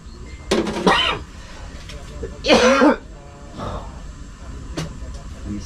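Two hoarse bursts of coughing or throat clearing stand out close by, followed by a fainter third one, with quiet background noise between them.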